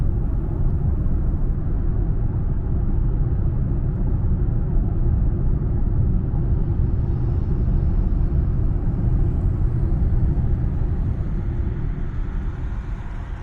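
A Hyundai Ioniq 5 electric car drives on the road, producing a steady low rumble of tyre and road noise inside the cabin without talk.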